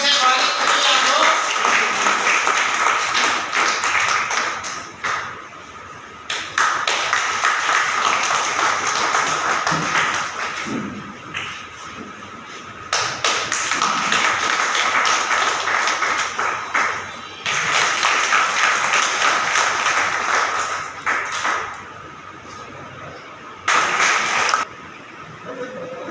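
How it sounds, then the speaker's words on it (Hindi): Audience applause welcomes a speaker to the stage at a public rally for an alcohol-free India, swelling in loud bursts that stop and start again, with voices heard in the gaps. "तालियों से स्वागत करिए आप लोग।"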